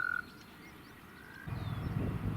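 Green frog calls rise from a pond full of newts and tadpoles, clearer and louder in the second half of the clip above a low outdoor hum, with faint high chirps also in the background.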